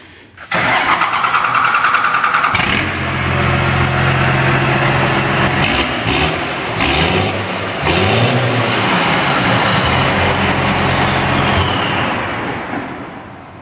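A 1993 Dodge Cummins diesel truck engine cranks, fires up and settles into a loud, close, rumbling idle with a few revs.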